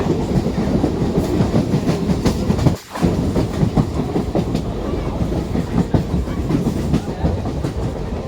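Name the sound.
Digha local train running on rails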